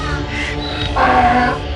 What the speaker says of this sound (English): A donkey, a wolf, a crow and a fox started crying loudly in front of the king's palace.